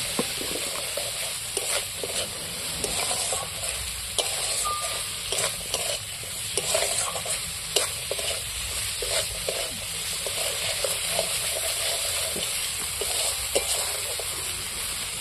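Green peas sautéed in egg curry masala in a pan, a constant loud hiss of frying broken by regular scraping and knocking spatula strokes throughout.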